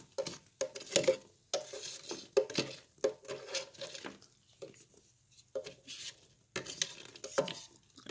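Popcorn is scooped in the kettle of a WestBend theater popcorn machine: repeated close scraping and rustling strokes with rattling kernels, coming in short bursts with brief pauses between them.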